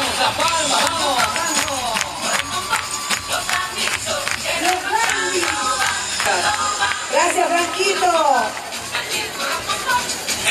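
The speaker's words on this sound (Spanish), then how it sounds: "¡Vamos, las palmas, vamos!" Rhythmic clapping from a carnival crowd, dense and sustained throughout, with lively cheering voices and babble layered over it; an announcer urges the crowd on at an ambassador election event in Corrientes.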